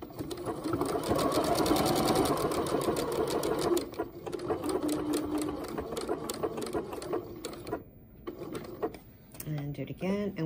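A home sewing machine stitches the outline of a holiday pillow in rapid close mechanical bursts, pausing and restarting as the fabric is turned, with someone talking over it.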